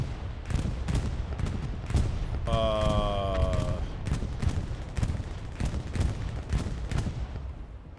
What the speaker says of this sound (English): Is that a bombing run? That is a bombing run.